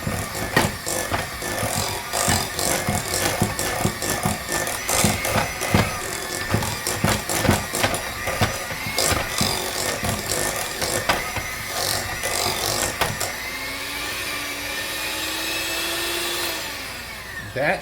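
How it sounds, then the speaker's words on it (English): An electric mixer creams butter and sugar for a chocolate chip angel pound cake, a loud, continuous whirring with irregular clatter of beaters against the bowl, steadying and then winding down near the end. "That should be good for the creaming of the butter and the sugar."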